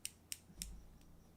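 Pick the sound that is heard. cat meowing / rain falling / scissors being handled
scissors being handled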